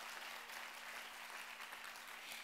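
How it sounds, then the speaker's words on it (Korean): Applause during a Sunday afternoon church service, a steady dense wash of clapping from the congregation lasting the whole moment, with a faint low hum underneath and no voices. "박수해 주세요."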